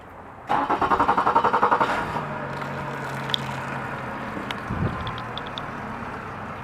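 The outboard engine of a 1982 Sea Ox boat restarts with a quick rhythmic cranking burst, then settles into a steady low idle with a few clicks and knocks nearby.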